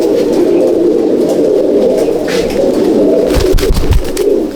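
Loft pigeons of Andhra and Madrasi breeds keep up a thick, continuous cooing chorus at close range, with a few soft knocks and rustles near the end and no voices.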